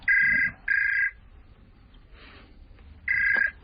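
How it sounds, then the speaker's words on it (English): A British telephone rings in a home with the classic double trill, two bursts then a pause before another ring. The rings are loud and clear over quiet room tone, with no speech. "Aren't you going to answer that? I'm on leave. Not from the telephone."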